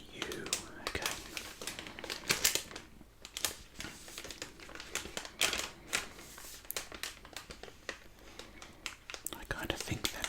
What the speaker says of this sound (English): I kind of think that crinkling sound always sounds a bit better once the pack is empty.